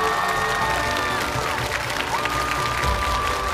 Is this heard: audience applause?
yes